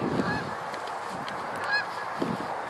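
Geese honk a few times at a moderate distance, two clear calls standing out over a low outdoor background.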